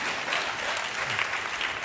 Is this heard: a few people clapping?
yes